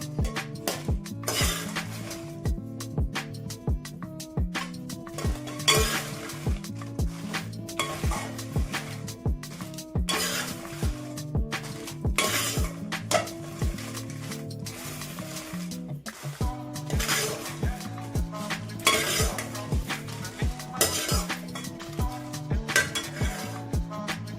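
Dry red chillies fry in oil in a pan for a moringa leaf spice powder, with steady metal spoon scraping and stirring against the pan over a low sizzle throughout.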